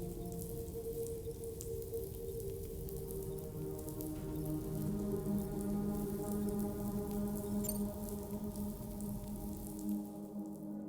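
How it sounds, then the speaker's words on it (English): Steady rain falls in the video game Death Stranding 2: On the Beach, a dense, continuous patter of drops on surfaces under a low droning musical score, holding even throughout before thinning near the end. "Those raindrops are falling on my head."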